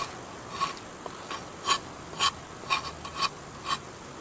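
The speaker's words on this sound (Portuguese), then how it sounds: "Você raspando a casca" A knife scrapes bark off a piece of firewood at a bushcraft campfire, giving about eight short, faint rasping strokes at an uneven rhythm over a quiet outdoor background.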